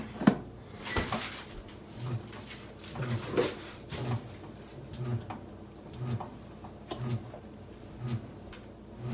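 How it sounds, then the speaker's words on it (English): A bread maker begins kneading dough with yeast added on top. It makes quiet, rhythmic soft thumps roughly once per second, with a few louder clicks near the start. "So it's starting its mix."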